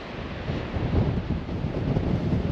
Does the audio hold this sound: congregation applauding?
no